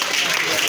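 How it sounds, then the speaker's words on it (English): A church congregation clapping together after a sermon, a brief continuous wash of applause filling the room. "Let's put our hands together and clap for everybody."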